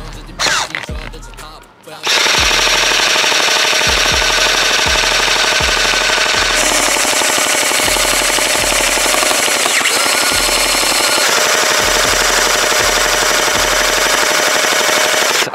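HK416D Terminator gel blaster firing a long continuous full-auto stream of 500 gel balls outdoors, loud and close, a rapid buzzing rattle with the motor whine running nonstop after a brief start.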